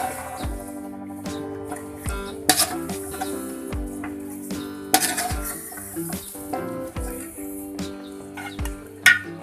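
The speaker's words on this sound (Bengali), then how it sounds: "এখন আমি এগুলো ভালোভাবে মিশিয়ে নেব।" Boiled chana dal being stirred into a cooking pot for Bengali patla khichuri, with repeated scraping and clinking of a utensil against the pot, soft sizzling underneath, and a few sharper knocks.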